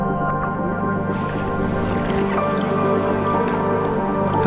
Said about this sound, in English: paddling south out of the sheltered bay